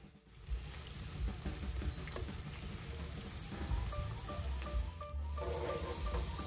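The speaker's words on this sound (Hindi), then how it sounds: "ब्रेड फ्राई करेंगे हम अब।" Quiet, continuous sizzling and light crackle of crustless bread slices frying in a pan for shahi tukre, a steady hiss with small pops throughout.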